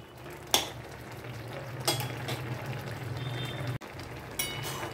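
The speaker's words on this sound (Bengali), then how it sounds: "হলুদ দিয়ে আরও 1 মিনিট ফুটিয়ে নেব।" Bottle gourd simmers with turmeric in a pot, a quiet bubbling bed broken by a few sharp clinks of a spoon or utensil against the pot.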